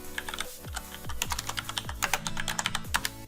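Steady, brisk typing on a computer keyboard while writing HTML code, a run of crisp close key clicks with occasional louder keystrokes and no voices.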